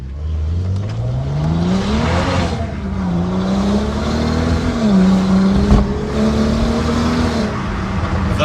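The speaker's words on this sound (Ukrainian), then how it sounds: "Так кажуть, на задньому приводі нема зацепа." A rear-wheel-drive BMW revs hard close by as its wheels spin without traction, the engine note climbing, dipping and holding high in repeated surges with tyre noise beneath.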